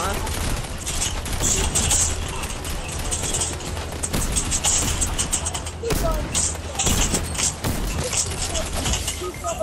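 Rapid machine-pistol bursts in a video game, dense crackling volleys repeating in quick runs across the whole stretch with brief gaps, loud and close over busy game noise.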